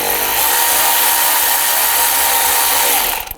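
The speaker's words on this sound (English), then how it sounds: "Now I'm using a 7mm socket. We're going to loosen up this worm clamp at the throttle body." A power tool driving a 7mm socket on a worm clamp at the throttle body of a 2009-2017 Volkswagen Tiguan, giving a loud, steady, high-pitched whir for about three seconds before cutting off.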